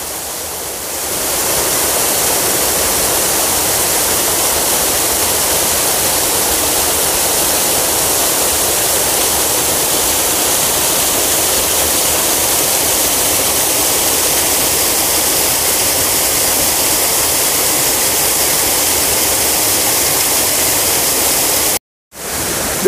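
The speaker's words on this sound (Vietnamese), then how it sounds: "Thác này chảy trên đầu nguồn chảy xuống qua con đá này, chảy xuống tạo thành cái thác rất là đẹp nha." A waterfall at Suối Hồ stream in Đại Lãnh pours from high above down over rocks, giving a loud, steady broadband rush that holds constant and close throughout, with a brief dropout near the end and no talking.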